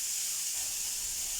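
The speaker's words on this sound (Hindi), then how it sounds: "तो ऑयल जो है वो गर्म हो गया है। अब हम इसमें प्याज का ऐड कर देंगे।" Chopped onions hit hot oil in a home kitchen, giving a bright, steady sizzling hiss that holds evenly for a moment, close and fairly quiet with no talking.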